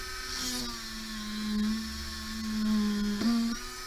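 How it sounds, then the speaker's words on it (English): A high-speed rotary tool with a setting burr grinds a bead setting, giving a steady close whine that rises and falls slightly with pressure, briefly dipping and catching near the end, with no speech. "I want to burr down pretty much the entire length of my setting burr"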